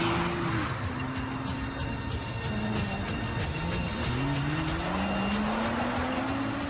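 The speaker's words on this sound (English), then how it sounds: "Every day and night, a team of 10 test drivers thrash 25 GT-Rs around this test track" Nissan GT-R cars are driven hard around a test track, with engine notes rising and shifting through gears in overlapping sweeps under a steady, loud roar, accompanied by faint regular ticking.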